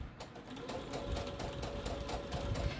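A sewing machine stitches slowly along the curved side of an apron with the needle left down, giving a steady close mechanical whir with repeated rhythmic needle pulses throughout.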